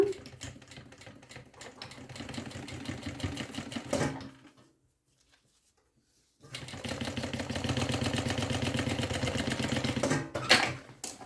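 A sewing machine runs in a steady rapid stitching rhythm on a zipper and lining for a bag, pauses for about two seconds of silence, then starts up again and stitches on.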